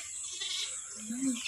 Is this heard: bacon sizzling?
no